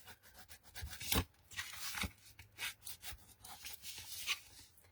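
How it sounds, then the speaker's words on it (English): A Teflon burnishing tool is rubbed firmly along folded paper edges in quick, uneven scraping strokes, soft and close, with short pauses between passes. "Grab your Teflon tool and give it a good dawn. Yeah, give it a good burnish."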